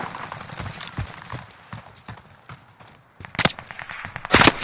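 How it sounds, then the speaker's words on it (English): Video game gunfire crackles in uneven bursts of sharp shots, some distant and some close, growing louder toward the end. "Or is that one of y'all shooting?"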